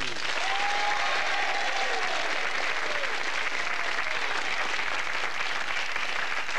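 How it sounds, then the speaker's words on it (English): A television quiz show studio audience in 1988 claps for two new contestants, a dense, steady wash of applause running evenly throughout at full strength, with a faint voice briefly audible early on. "a big round of applause, please, this time for Stuart Rusted and Richard Dawson"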